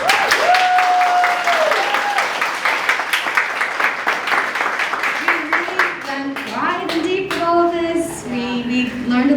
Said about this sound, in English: I want to give a huge round of applause to our panelists.